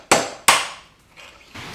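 Two sharp metallic hammer strikes ring out close up as a suspension bearing is knocked out of a Trek Rail electric mountain bike frame, each blow decaying into a brief ringing tail, followed by faint shuffling.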